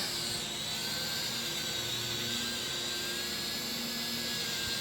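National Geographic quadcopter drone flying at full forward throttle with a weakening battery, a steady high-pitched motor whine with a constant buzzing drone, fairly close and unbroken.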